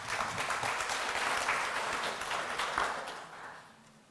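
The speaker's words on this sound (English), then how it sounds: "A round of applause." An audience at a Pacific employment event opening in Fiji applauds a minister, a steady wash of many hands clapping, fairly faint and distant, tapering off toward the end.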